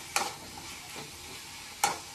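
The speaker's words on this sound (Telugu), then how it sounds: "కొంచెం ఫ్రై అవనిద్దాం." Chicken frying in a home kitchen pan, a quiet steady sizzle with two sharp stirring scrapes at the start and near the end, no voices.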